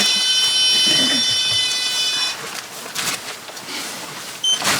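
A motion detector alarm in a bedroom, set off during a paranormal investigation, gives a loud, steady electronic tone for about two seconds and then cuts off, leaving room noise and one brief beep near the end.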